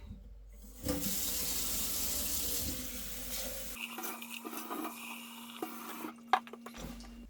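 Lukewarm water runs from a tap in a steady, close hiss for a few seconds, then shifts to a thinner trickle with a faint hum and small clinks before it stops.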